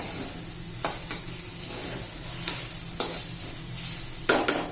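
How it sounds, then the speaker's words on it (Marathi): A spoon stirs grated fresh coconut laddu mixture in a pan over a medium gas flame, with soft scraping and a few sharper clinks against the pan above a steady low hiss. "मध्यम गॅसवर एक दोन चार मिनटं आपण चांगलं हलवून घेऊया त्याला असं सुक्क सुक्क करायचं जरा"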